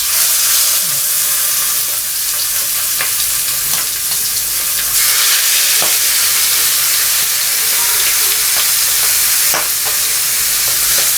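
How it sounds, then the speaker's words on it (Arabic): Chicken pieces fry skin-side down in a very hot oiled pan, giving a loud, steady sizzle and hiss that runs the whole time with faint clinks and stirring noises and no talking. "هحط فيها شوية قليلين من الزيت، وابدأ انزل بقطع الفراخ على الناحية اللي فيها الجلد عشان اديها صدمة"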